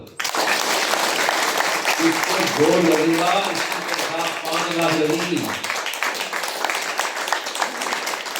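Sustained applause from a crowd at a religious healing gathering in Pune, India, with dense clapping throughout as someone talks over it and some rhythmic chanting or singing joins in the middle.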